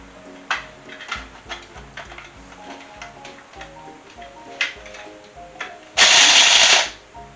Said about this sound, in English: 4 tablespoons of juniper berry, and again back to the spice grinder